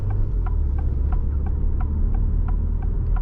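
The gasoline engine of an Alfa Romeo Tonale hybrid runs in a steady low drone with a faint regular throb, heard from inside the cabin with no talking.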